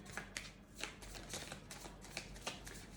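Tarot cards being shuffled close by, a series of crisp riffling bursts spaced irregularly with soft shuffling between them, with no voices.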